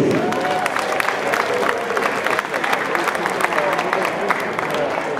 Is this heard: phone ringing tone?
no